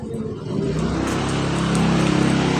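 A 2012 Toyota Avanza, an Indonesian-market model, idles steadily and then revs up, its engine hum rising into a louder, sustained drone close by with no talking.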